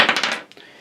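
Dice rolled onto a table during a tabletop wargame, a short rattling clatter of quick taps that settles into a faint final knock, close and alone.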